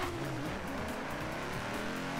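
Audi RS4 tuned as an S-class build accelerating down a drag strip in Forza 7, a steady engine drone with rising and falling harmonic sweeps through a long first gear, continuous and loud with no talk.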